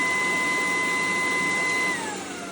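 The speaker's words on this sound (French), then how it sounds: "j'ai reçu leur aspirateur tout simple. Et franchement, il est super bien, il aspire très bien" A vacuum cleaner runs steadily with a broad whooshing roar and high whine, then its pitch drops and it quiets as suction is lowered near the end.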